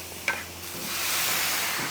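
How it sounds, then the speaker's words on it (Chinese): Seasoning sauce hits a hot wok of half-cooked cucumber and button mushrooms being stir-fried, with a quick splash followed by a steady, swelling sizzle and hiss that carries on to the end, with no talking. "我们加上前面调好的料汁啊，直接下锅"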